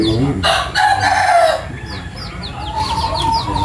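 Chickens clucking and squawking up close, with a loud rooster-like call at the start followed by rapid, chirpy clucks.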